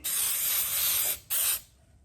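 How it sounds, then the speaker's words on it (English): An aerosol spray hisses in two bursts, a long steady spray followed by a short pause and a second shorter blast, close and loud. "You really need to get in there with your spray."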